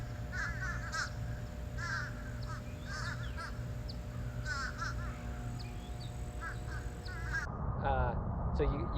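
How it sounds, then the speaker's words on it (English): Fish crows calling in a parking lot during winter, repeated short nasal caws spaced through the clip, moderately near over a steady low background hum, with a louder call at the end. "And fish crow, very different sound. I can hear one now."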